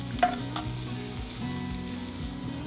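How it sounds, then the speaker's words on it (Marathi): Onion sizzling gently in a pan with cumin as a Bombil bhaji is cooked, a soft steady fry with a few light stirring scrapes, fairly quiet and close. "कांदा परतून घ्यायचा"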